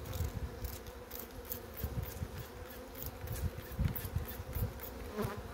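Honey bees buzzing around a hive being treated for varroa mites, a steady close droning hum with fluctuating intensity and no voices.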